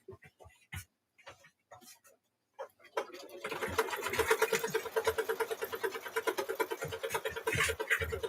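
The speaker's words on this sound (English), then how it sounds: "So now we'll stitch that inside stitch." An embroidery sewing machine stitches a mug rug held in the hoop: scattered clicks and a few words of speech first, then a fast, even mechanical chatter with a rhythmic pulse.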